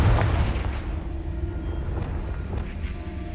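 In Hogwarts Legacy, the Confringo fire spell detonates with a heavy booming blast up front, then a lingering low rumble with fainter crackles and thumps afterward.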